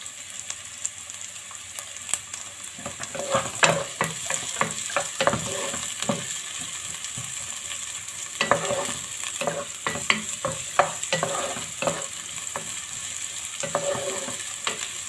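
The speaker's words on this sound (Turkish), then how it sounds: "Bir iki dakikada bu şekilde e, soteleyeceğiz." Vegetables, including a large long green pepper and chopped garlic, sizzle steadily in a hot pan while a utensil stirs and scrapes them in irregular bursts, close up, with no voices.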